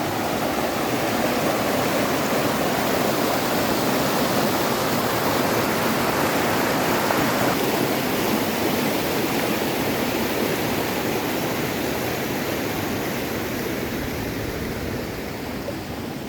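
May Creek rushes steadily beside a log bridge in the Pasayten Wilderness, a loud, continuous broadband roar of flowing water, close and uninterrupted with no voices.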